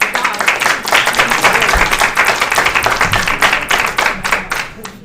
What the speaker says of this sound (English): we all need to have a round of applause for both Glenda and Linda for all their hard work